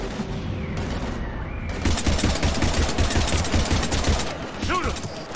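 Dense gunfire in Mass Effect 3, with rapid rattling bursts of automatic fire sustained throughout. It grows louder partway through, with voices and combat noise mixed in.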